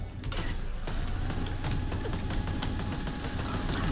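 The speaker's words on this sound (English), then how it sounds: "this heavy machine gun is just not our thing" A heavy machine gun in the shooter game STRAFE fires steadily and continuously in a fairly even rattling burst after a short pause at the start, moderately loud with no voices.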